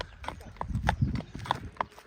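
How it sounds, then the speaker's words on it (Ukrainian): Forest work horses, stallions, clip-clop at a walk, their hooves striking in an irregular rhythm of sharp knocks over low rumbling background noise, moderately close and fairly quiet. "То коні лісові обидва."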